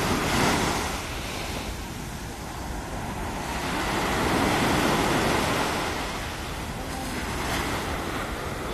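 Ocean surf rolling onto a beach at the seaside, a steady loud wash of breaking waves that swells and recedes, with wind buffeting the microphone throughout and no voices.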